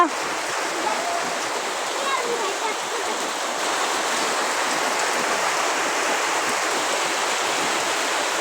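Dense, steady roar of heavy rain pouring down continuously, loud and close, with no letup across the whole stretch.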